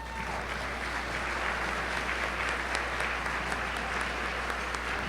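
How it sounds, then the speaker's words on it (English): Thick, even applause fills a room at an awards ceremony, many hands clapping steadily at a loud level for the whole stretch over a low constant hum. "Please join me in a round of applause for Ed and Pam."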